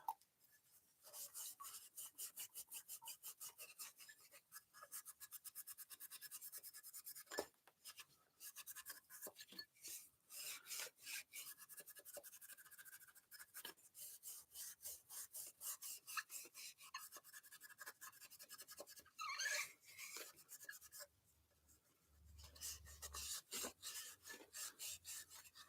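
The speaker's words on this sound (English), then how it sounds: "I can take that right off with the Scotch-Brite" Brass parts from a DeLonghi espresso machine being scrubbed with a Scotch-Brite pad, giving a steady, close rasping rub in quick back-and-forth strokes with brief pauses.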